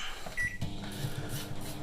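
Microwave oven being set to a 17-minute timer for cooking rice in a microwave rice cooker, with a short electronic beep over a steady low hum.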